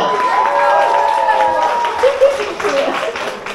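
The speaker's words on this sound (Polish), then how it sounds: "Jeszcze raz wielkie brawa!" Audience clapping and cheering inside a pub, steady and fairly close, blended with voices and some tonal sounds early on.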